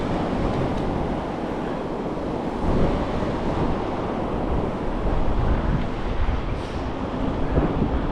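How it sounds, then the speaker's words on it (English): Steady surf rolling in at Mordialloc Beach in Melbourne under an overcast, windy morning, a continuous loud wash of breaking waves with gusting wind buffeting the microphone throughout. "This is Mordialloc Beach."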